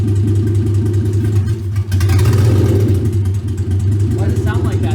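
A swapped engine in a Porsche revs with a misfire, a loud rough drone that surges and climbs in pitch midway before settling, with a voice briefly audible over it.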